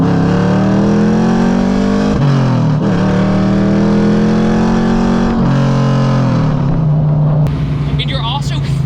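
A tuned 420 hp Lincoln Town Car revs hard through several gear changes, loud and close, with a sharp backfire pop near the end and voices talking over it.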